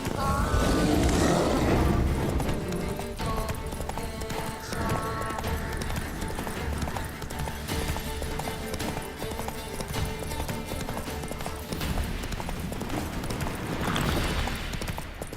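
Hooves of Roach, the horse in The Witcher 3, clip-clop at a gallop under dense game music and ambience, a steady loud bed throughout.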